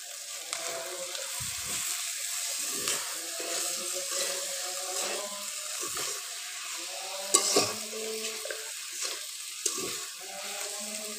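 Small whole mourala fish frying in a pan, an even sizzle broken by periodic scraping and stirring strokes and a sharp clink partway through, heard alone without voices.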